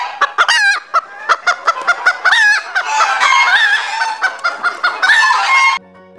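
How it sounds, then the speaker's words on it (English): Chickens clucking and squawking in a busy, continuous stream of short bursts and drawn-out calls, loud and close, with no talking. "H for hen."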